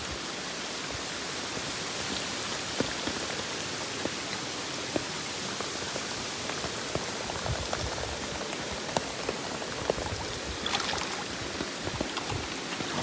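Soft, steady patter of rain falling outdoors, fairly quiet and continuous with scattered small drop hits and no talk.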